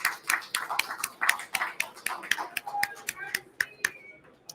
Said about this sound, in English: Let's just give them a round of applause real quick.